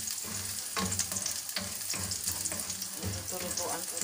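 Garlic sautés in hot oil in a pan in a small home kitchen, a loud, close, continuous sizzle with occasional stirring scrapes rising and falling.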